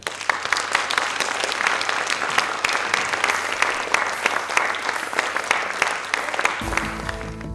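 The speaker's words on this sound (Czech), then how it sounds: "Takže teď můžete možná zatleskat a přivítat už doopravdy electro folk." Festival audience at a gala evening applauds loudly to welcome an electro folk band, dense sustained clapping throughout before music begins at the very end.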